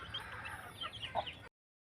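A group of one-and-a-half-month-old chicks clucking and cheeping close by, a steady overlapping chatter lasting about a second and a half before cutting off.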